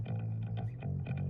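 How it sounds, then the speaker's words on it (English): A soloed bass guitar track from a studio mix plays a short phrase of low, slightly distorted sustained notes with a few plucked attacks, alone and fairly quiet. "if you go onto this bass track over here"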